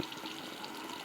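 Tap water runs steadily into a container while mixing strawberry shampoo bubble solution, a soft continuous splashing flow, close and faint.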